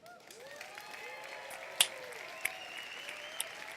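Applause from a conference audience at EA Play 2018 rolls on steadily, broad and moderately loud, with a few sharp isolated claps and faint whistles cutting through.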